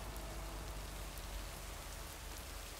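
Steady rain falling in a video game scene, an even wash of hiss throughout with no distinct drops standing out and no talking.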